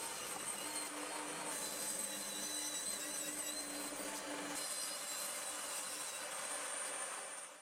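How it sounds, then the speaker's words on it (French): Wooden chair slats being cut to final length with a saw, a steady continuous cutting noise running loud and unbroken for several seconds, with a lower rumble dropping out partway through. "je coupe toutes les lattes à leur longueur finale"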